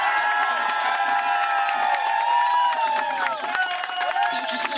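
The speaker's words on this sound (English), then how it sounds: "Standing ovation, clap" An audience at a Walt Disney World or Disneyland show erupts in loud cheering, whooping and clapping for a standing ovation, a sustained close roar of many voices.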